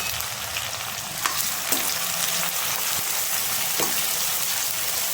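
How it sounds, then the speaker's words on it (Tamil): Mustard seeds splutter in hot oil for a kuzhambu, giving a steady close sizzle broken by a few sharp pops, with no talking. "கடுகு பொரியுது"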